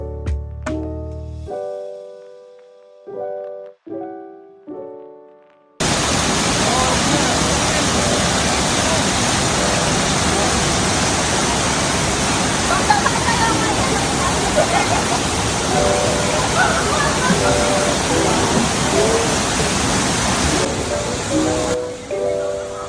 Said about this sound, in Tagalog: Unexpected nga na hindi masyadong mataas ang falls.